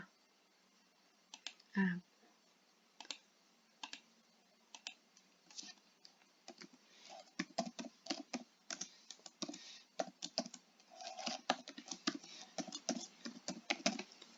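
Typing on a computer keyboard while editing text in PowerPoint, with a steady patter of close key clicks that grows denser in the second half, preceded by a brief low thump.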